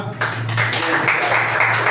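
An audience at a positive-culture school presentation breaks into applause, a dense wash of clapping under a steady low hum, lasting about two seconds.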